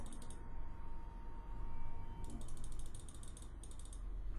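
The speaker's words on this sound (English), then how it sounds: "The door, it's open." A heavy door grinds open in a horror containment facility game, with a steady mechanical ratcheting and whirring under a faint, high repeating electronic chirp.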